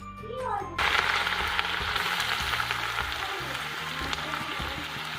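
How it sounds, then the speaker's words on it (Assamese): Ginger garlic paste drops into hot oil with a loud, steady sizzle that starts suddenly and keeps crackling close by, while a voice speaks softly over it. "তেল গৰম হ'লেই মই আদা নহৰু দিম এতিয়া"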